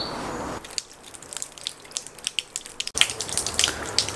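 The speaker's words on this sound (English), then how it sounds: "The dripping you can hear is a bit of a leak." Water drips from a leak in a canal aqueduct, scattered sharp drops falling irregularly over soft background wash, growing louder and more frequent toward the end.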